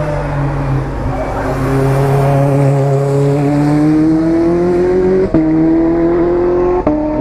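Loud Porsche race car engines scream past at the first corner of the Nürburgring 24 Hour Race, pitch climbing as they accelerate through gear changes, one car following closely behind another.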